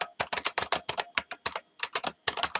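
Rapid typing of code on a computer keyboard, with crisp, close key clacks in quick bursts and brief pauses between runs.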